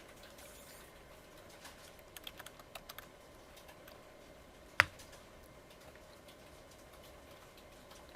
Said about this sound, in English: I'm just typing stuff in,